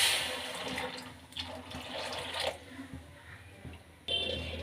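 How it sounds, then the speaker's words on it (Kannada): Water poured into a pan of cooking fresh pigeon peas on the stove, a close steady gush that wavers, eases off midway, then surges again near the end. "ಈಗ ನೀರು ಸೇರಿಸ್ಕೊಳ್ಳೋಣ"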